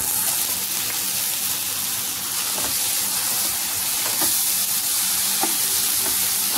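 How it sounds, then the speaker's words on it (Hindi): Chopped tomatoes sauté in a pan over onions for a corn masala dish, a steady close sizzle with intermittent scraping stirs throughout, no voices. "टमाटर को हम थोड़ा भून लेंगे"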